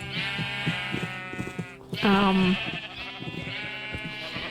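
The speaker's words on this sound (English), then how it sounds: "Yeah, these are all the sheep." Sheep bleating in the Minecraft video game, several repeated bleats with one loud, clear bleat near the middle, alongside a brief spoken word and steady game background.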